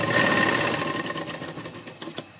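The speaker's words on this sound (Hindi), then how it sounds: "आधा इंच की मार्जिन पर इसे सिलाई कर रही हूं" A sewing machine stitches a burqa sleeve at a half-inch margin with a close, continuous whirring hum that eases off toward the end and is broken by a few soft clicks.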